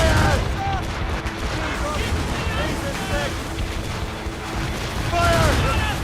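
Naval cannons from Royal Navy gunboats blast in an Assassin's Creed Rogue sea battle, heavy booming volleys rolling over a dense din of combat while voices shout throughout.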